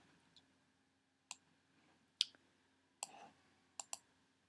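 A computer mouse clicks quietly and sharply at irregular intervals, about half a dozen clicks in a near-silent room while working in Cricut Design Space.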